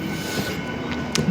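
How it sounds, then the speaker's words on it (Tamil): A train rolls past at Royapuram railway station in Chennai, a steady close rumble of wheels and carriages filling the whole stretch, with a couple of brief squeal-like accents near the end. "அந்த சைடு ஒரு ட்ரெயின் இருக்குது."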